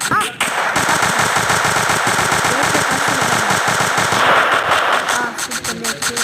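Continuous rapid automatic gunfire in a shooting video game, loud and dense for several seconds before breaking into scattered shots, with a player's voice talking over it.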